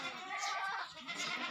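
Goat bleating on a rural Thai goat farm, a fairly faint, steady bleat over broadband farmyard background noise, with no speech.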